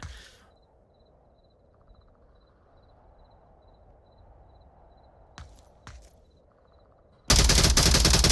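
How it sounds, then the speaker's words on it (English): Gunshots in the VR shooter Onward, two sharp distant cracks over a quiet ambient backdrop with faint beeping, then a sudden loud burst of rapid fire at the end. "Oh, shots coming out from Raz."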